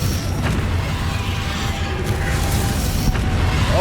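A Confringo fire spell explodes in Hogwarts Legacy, producing a sustained low rumbling boom with a few faint crackling bursts over dense background noise.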